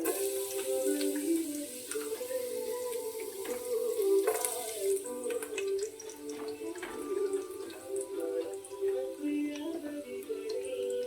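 Garlic frying in a mix of sunflower oil and ghee gives a steady close sizzle, with a brief brighter burst near the middle.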